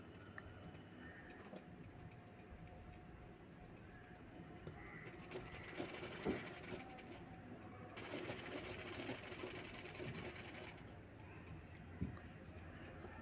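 Sewing machine stitching a baby boy's kurta, a steady mechanical whir that runs under quiet room noise and swells louder in short bursts of stitching partway through.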